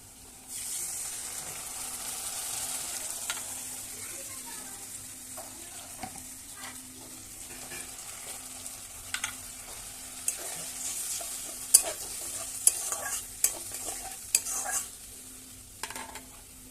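Onions frying in a pan as a mustard and poppy seed paste goes in, stirred steadily with a continuous close sizzle; sharp clicks and scrapes grow more frequent toward the end, and no one speaks.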